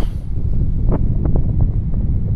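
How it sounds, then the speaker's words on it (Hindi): Very cold, strong wind buffets the microphone on a mountain top at Nori Top, a loud, constant low roar with a few faint brief knocks mixed in. "बहुत ठंडी और तेज हवा"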